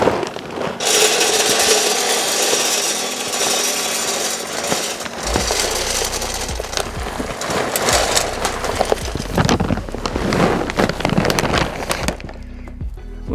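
Natural apple wood pellets poured into the small hopper of a portable smoker: a loud, continuous rushing rattle of pellets that lasts most of the clip and ends abruptly.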